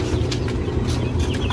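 Chicks and chickens on a poultry farm fill the air with continuous clucking and peeping from many birds, close and busy over a low background hum.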